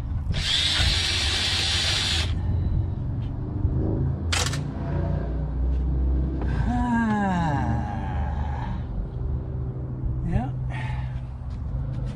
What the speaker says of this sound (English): get the power supply screws undone